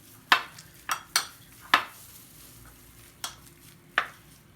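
Six sharp, irregular knocks of a utensil striking a bowl while boiled eggs are mashed, each tap close and crisp, with quiet gaps between them.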